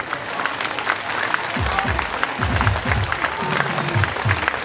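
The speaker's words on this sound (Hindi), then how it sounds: "ताली बजती रहनी चाहिए" Audience clapping at a church celebration mass, a broad patter of hands with rhythmic low thumps and some crowd noise mixed in, moderately loud and continuous.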